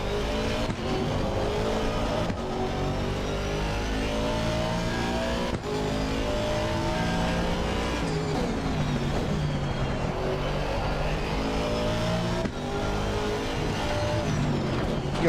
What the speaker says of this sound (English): Assetto Corsa Competizione, and we're gonna crash again.